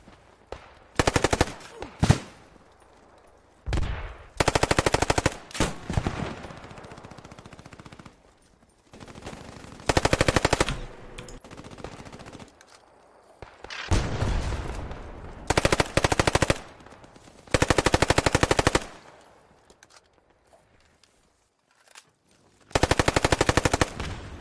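Machine-gun fire in the Post Scriptum video game arrives as repeated loud, sustained automatic bursts of a second or two each, separated by quieter gaps with distant shots and battlefield ambience.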